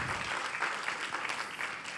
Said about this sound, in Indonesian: Dari tadi nungguin tepuk tangannya.